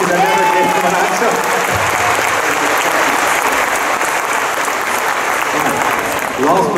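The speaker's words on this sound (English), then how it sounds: "Can you give this gentleman a round of applause" A big crowd at a comic con Q&A session gives a loud, dense round of applause that stays thick and continuous throughout, with faint whoops and voices mixed in.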